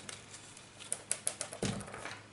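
Sharp scissors snipping craft paper while making a matching tote bag, a quick run of crisp close cuts, one after another, with no talking.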